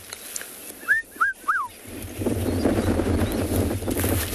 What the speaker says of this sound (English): Distant sounds of the red-chested cuckoo.